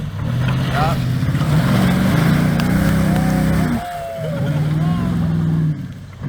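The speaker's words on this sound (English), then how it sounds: "it was lots of V8 power and four-wheel spin to finish off the mud pit" Full-size Toyota Tundra V8 pickup grinding through a mud pit with wheels spinning, a loud sustained engine roar that rises and dips, briefly easing near the end, with voices talking over it.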